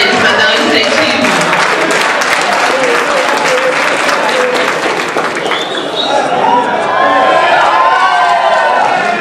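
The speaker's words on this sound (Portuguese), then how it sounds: "Vamos bater palmas para eles, para dar um incentivo" Sustained audience applause fills a room at a university administration week debate, dense and steady clapping from a crowd with some cheering mixed in, continuing at full strength throughout.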